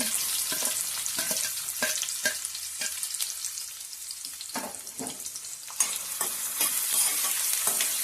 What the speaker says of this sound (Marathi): कांदो घालून घ्यायचो